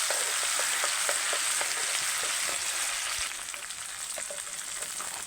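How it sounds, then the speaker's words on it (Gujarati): Garlic, ginger and green chili paste frying in oil for a peanut bhajiya curry, a loud dense sizzle with light stirring clicks that eases slightly toward the end. "લસણ આદુ લીલા મરચાંનું પેસ્ટ બધું મિક્સ કરી નાખીએ"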